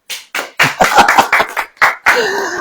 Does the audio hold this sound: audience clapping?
yes